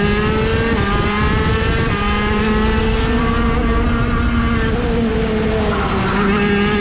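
Birel ART S14 kart with a KZ gearbox engine driving at the Lonato track, a loud, steady high-pitched two-stroke drone held close for several seconds with only slight pitch shifts.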